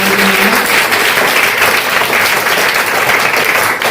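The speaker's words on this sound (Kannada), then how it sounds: "ಜೋರಾದ ಚಪ್ಪಾಳೆ" A quiz competition audience breaks into loud, dense applause after a correct answer, a sustained close roar of clapping from start to finish.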